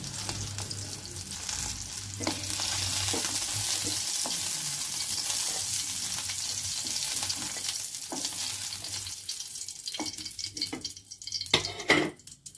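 Peanuts sizzle and crackle softly in a pan while a spoon stirs them, with occasional scraping clinks and a louder clatter near the end as they are taken out.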